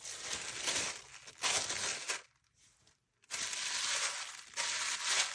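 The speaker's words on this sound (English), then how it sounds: "just take some tissue paper." Tissue paper is crumpled and crinkled for wrapping a holiday gift in several loud, close bursts of papery rustling, broken by a brief quiet pause partway through.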